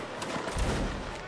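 A musket volley in the Napoleonic Wars video game, heard as a dense, rolling crackle of many shots blended into one continuous roar with a low thump in the middle, loud and unbroken, with no voices.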